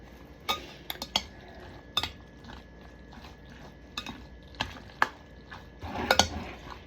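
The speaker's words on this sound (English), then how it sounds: "I'm mixing my egg in completely." Egg being stirred into a bowl of ingredients by hand, giving irregular clinks and scrapes of a utensil against the dish, close and fairly quiet, with a quick cluster of taps near the end.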